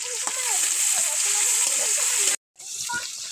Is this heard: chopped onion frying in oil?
yes